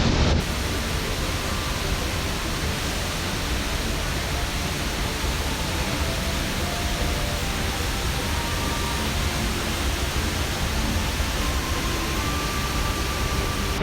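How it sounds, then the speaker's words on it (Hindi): A mountain waterfall on the Hampta Pass trek roars as a loud, steady, broadband rush, unbroken from start to finish with no talk over it. "Such a magnificent waterfall"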